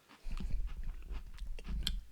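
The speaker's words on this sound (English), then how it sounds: "You can hear me crunch my cookie." A cookie being crunched and chewed close to the microphone, with steady soft bites and no talking.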